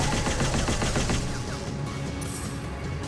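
A video game weapon fires in a dense, rapid burst of loud shots that blur into a continuous rattle, close and unbroken for the whole stretch, with no talking.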